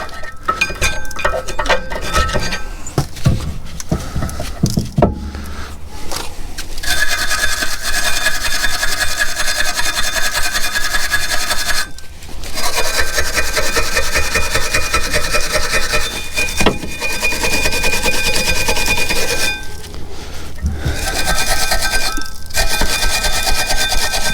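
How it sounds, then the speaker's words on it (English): A wire brush scrubs the parts of a VW Tiguan rear brake assembly during a pad replacement, giving loud, close, continuous scratchy strokes with a few brief gaps and small metallic clinks. "First with your flathead screwdriver and then your wire brush."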